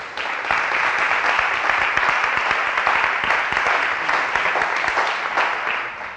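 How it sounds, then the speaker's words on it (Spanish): Sustained, even applause from a conference audience for a helper, steady and fairly loud throughout, with no break in the clapping. "Un aplauso para ella que me está ayudando un montón."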